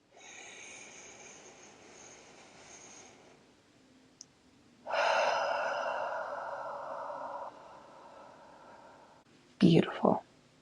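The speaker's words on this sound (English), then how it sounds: "So we're going to breathe in." A deep breath drawn in and let out, a long soft breathy rush held steady for several seconds and then a fuller exhale, close and quiet, ending with a brief voiced sound.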